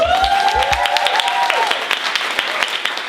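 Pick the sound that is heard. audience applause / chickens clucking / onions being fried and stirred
audience applause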